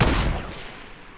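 A single sniper rifle shot in the Fortnite video game, a loud sharp report up close with a booming low tail that decays over about a second, heard alone.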